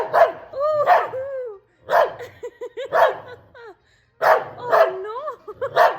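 A puppy barks and yips in loud, close bursts, some rising into whiny squeals, separated by short pauses, with a voice mixed in.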